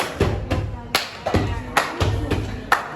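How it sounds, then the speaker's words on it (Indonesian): Hand claps sound in an irregular rhythm, about ten sharp slaps close by, used as internal body music for a dance; no one speaks between them. "Kayak contoh tepukan kayak ini."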